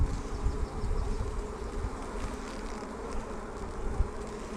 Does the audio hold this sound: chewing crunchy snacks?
no